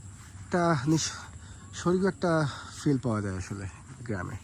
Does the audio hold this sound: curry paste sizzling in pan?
no